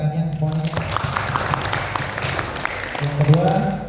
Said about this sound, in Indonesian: Boleh tepuk tangannya semuanya.